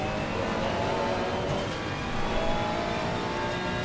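A race car engine drones steadily in the racing game Assetto Corsa Competizione, a loud, continuous roar with slight swells as it revs, heard alone.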